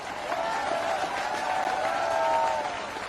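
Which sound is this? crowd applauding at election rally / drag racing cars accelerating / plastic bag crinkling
crowd applauding at election rally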